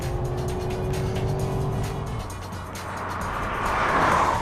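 A car's engine accelerates hard on a race track, a steady loud drone that shifts in pitch as the throttle comes back on, with a brief tire-like hiss near the end.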